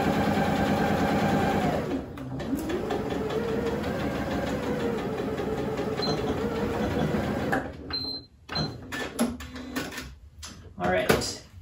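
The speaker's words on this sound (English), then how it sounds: "And we're just sewing across here." A sewing machine runs steadily as it stitches the seam of a cloth face mask, close and loud for several seconds, then stops and gives way to clicks and handling noises while a person talks over it.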